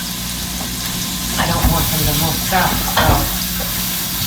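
Meatballs frying in a pan at home, sixteen at a time, give a steady sizzle and crackle that runs under a person talking, with a few louder stirring bursts along the way.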